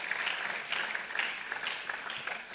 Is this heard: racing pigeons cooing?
no